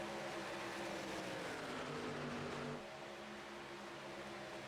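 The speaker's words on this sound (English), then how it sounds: "So the engine, you can still hear engine noise, but it is a little bit softer" Race-truck engines drone steadily in a Las Vegas racing video game, a faint continuous hum with a tonal whine that drops in pitch and level partway through, with no talk.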